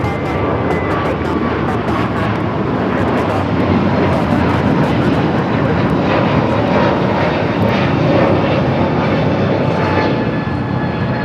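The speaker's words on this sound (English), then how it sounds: "This is United Airlines 1260 taking off to Denver on the A321neo." At LAX a United Airlines Airbus A321neo powers down the runway on takeoff. Its engines give a loud, continuous roar that stays strong and even throughout.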